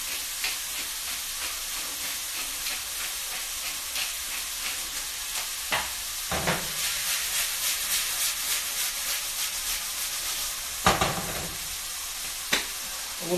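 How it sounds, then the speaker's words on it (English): Onions sauté in a pan, seasoned with salt and pepper, giving off a steady close sizzle and crackle with occasional louder pops and stirring scrapes throughout. "we're just going to saute those onions down"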